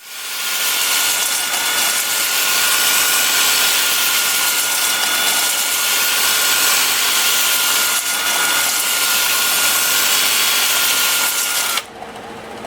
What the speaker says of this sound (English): I'm starting at 100 grit on my 2-inch disc, working up through 400.